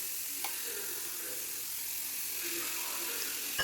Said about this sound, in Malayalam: നന്നായിട്ടൊന്ന് വഴറ്റി കൊടുക്കുന്നുണ്ട്.